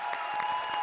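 A short burst of studio audience clapping greets a performer on a comedy show stage, a quick rhythmic patter of hands heard briefly and moderately loud.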